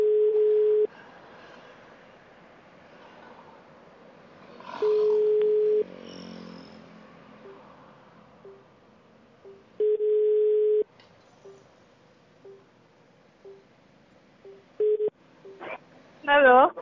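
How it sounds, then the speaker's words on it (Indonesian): Ringback tone of an ordinary phone call placed while walking outdoors: a steady pulsing tone repeats about every second and a half, with a few louder tone bursts between, and faint street noise beneath. "Ini nanti coba gua telepon dulu ya."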